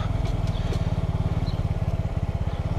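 A motorcycle engine held steady in fourth gear at a slow, low speed of about 15 km/h, a close, even, throbbing low drone with regular pulses.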